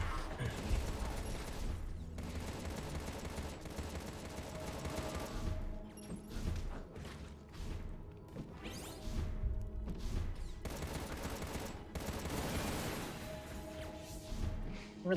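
Dense gunfire and explosive crashes from the shooter game Contra: Rogue Corps pound continuously at high volume, with thuds and whooshes layered over a busy, loud mix.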